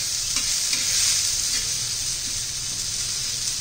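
Raw mango chutney ingredients roast in a pan, filling the space with a loud, steady hiss of frying along with faint, intermittent scrapes of stirring.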